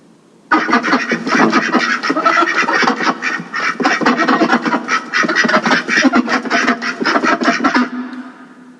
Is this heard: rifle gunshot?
no